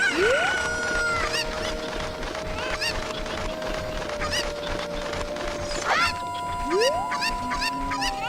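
Chickens in the Zelda Ocarina of Time video game cluck and squawk repeatedly over steady game music, loud and close, with a rising crow-like call midway and no talking.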